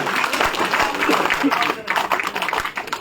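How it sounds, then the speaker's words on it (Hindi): Dense applause from a crowd at a political party joining event in Jammu and Kashmir rattles on continuously, mixed with voices and general noise. "तालियां लगातार बजनी चाहिए"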